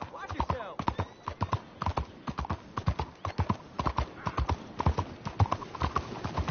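Horse hooves clip-clop in a steady, close rhythm throughout Red Dead Redemption 2 gameplay, with a few faint whinnies mixed into the game soundscape and no one talking.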